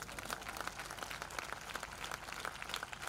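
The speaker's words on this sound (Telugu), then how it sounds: "ఇంత అద్భుతమైన చప్పట్లు కొడతారని ఊహించలేదు." A church congregation claps during a sermon, producing a faint, distant, continuous patter of many hands with no voices over it.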